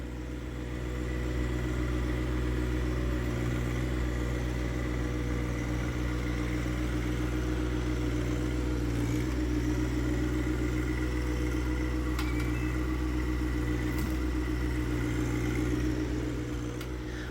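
A John Deere 1025R compact tractor fitted with a root grapple runs steadily during land clearing, giving a continuous, even engine drone with low rumble and no pauses for the whole stretch.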